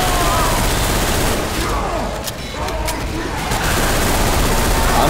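Loud rapid gunfire rattles without pause in a zombie-shooting video game, a dense, continuous barrage that fills the whole stretch.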